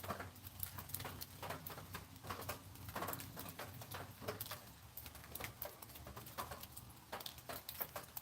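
Steady rain patters down in a quiet woodland, soft drips and taps spread evenly over a hushed background with no voices.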